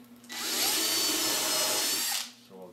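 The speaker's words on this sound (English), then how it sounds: "So I'll drill that one." A power drill bores a hole in wood, a loud, steady whine and grinding that starts abruptly, holds for about two seconds and stops, close to the microphone with no talking.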